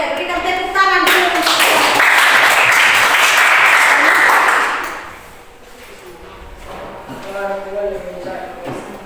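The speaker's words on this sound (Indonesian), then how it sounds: "berikan tepuk tangan dulu" Audience applause at a school group performance, a dense burst of clapping that swells loud for several seconds then fades, with voices talking over the end.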